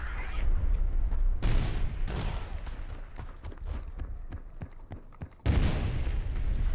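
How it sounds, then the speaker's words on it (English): Grenade explosions in Battlefield 2142 go off as heavy booms amid crackling gunfire, with one loud blast early and a second sharp burst near the end. "Grenade!"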